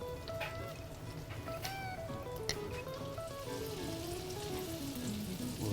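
Steady close sizzle and crackle of shrimp frying in melted butter in a pan, a continuous hiss with scattered pops and a faint high whine drifting underneath.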